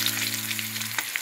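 A bay leaf dropped into hot oil with potatoes and cumin tempering, crackling in a continuous close, loud sizzle with a couple of brief pops near the end.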